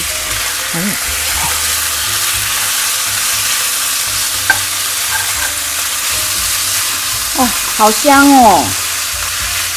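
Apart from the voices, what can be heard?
pork frying in a wok for stir-fry with Chinese kale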